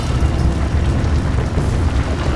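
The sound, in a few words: explosions in burning multi-vehicle crash on a bridge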